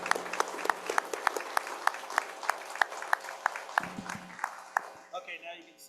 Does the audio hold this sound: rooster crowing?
no